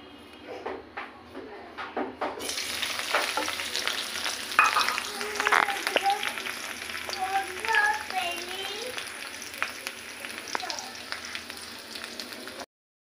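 Onions and green and dried chilies fry in a pan for a loita vegetable dish, a steady close sizzle broken by stirring scrapes that starts abruptly, with a voice faintly present at times.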